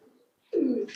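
A pigeon in a loft crowded with birds gives one close, warm coo after a brief quiet pause.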